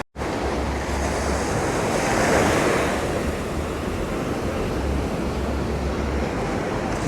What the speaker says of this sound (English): sometimes when I see waves, I wonder how they know to kind of stop there